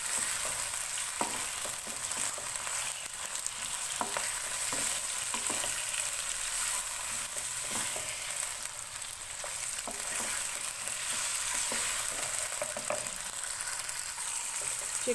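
Chicken pieces fry in oil over a medium flame for chicken salan, making a continuous bright sizzle with scattered small pops and stirring clicks throughout, steady and close, with no talking.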